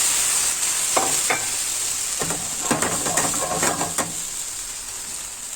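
Galdirik, a wild Turkish green, sizzles and hisses steadily in hot oil, the frying loud and close, with intermittent scraping and stirring clatter from a utensil over the continuous sizzle.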